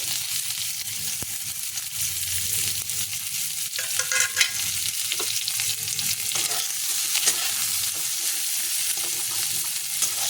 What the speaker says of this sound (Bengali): পেঁয়াজটা ভেজে নিয়ে একটু লাল করে